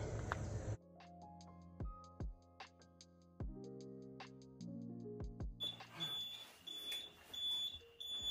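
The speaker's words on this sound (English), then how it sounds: "so the alarm's going off" Tonal electronic beeps and chimes ring out in an irregular pattern inside an abandoned mansion turned nursing home, followed by a harsh, buzzing alarm tone near the end.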